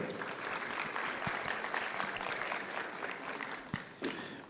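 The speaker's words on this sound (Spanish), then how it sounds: "Vamos a recibir a Evangelina con un fuerte aplauso" A conference audience claps steadily for an arriving speaker at a business talk, a dense continuous patter of applause at moderate distance with a few sharper individual claps near the end.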